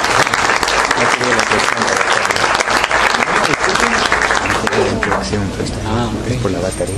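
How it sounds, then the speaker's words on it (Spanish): Steady, loud audience applause for a speaker at an ecotourism interpretive guides talk, a dense sustained clatter of many hands lasting the full stretch. "Demos un fuerte aplauso"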